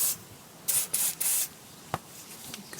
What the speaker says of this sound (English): So the first thing you need to do is spray them